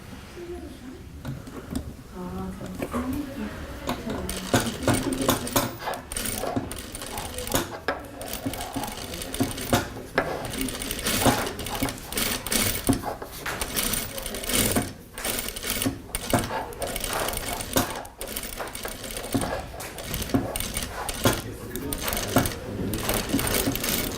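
Industrial sewing machine stitching a slow curve in a sewing operation, a steady close whirring run with fast rhythmic needle ticking and brief pauses and restarts throughout.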